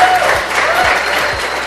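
An audience at the opening of the HackFMI 8 hackathon gives warm-up applause, a dense, steady burst of clapping close and loud throughout.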